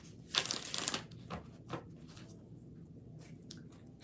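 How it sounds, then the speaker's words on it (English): A deck of cards shuffled for a reading gives a loud riffling burst of rapid flicks. It is followed by a few softer, scattered card taps and slides in a quiet room. "I'm shuffling for a second."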